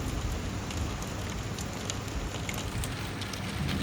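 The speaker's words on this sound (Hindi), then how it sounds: "एकदम तेज़ बारिश हो गई है" Heavy rain falls outside a window, a dense, steady hiss of pattering drops at constant loudness with no talk.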